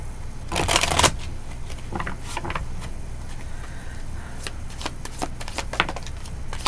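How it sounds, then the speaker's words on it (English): A deck of true crime cards being shuffled by hand in small batches, a burst of riffling followed by scattered softer card slides and taps, close and fairly quiet. "Can only shuffle a small amount at a time."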